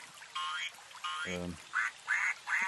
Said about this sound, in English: Oh, there's ducks. There's a pond. There's a pond nearby.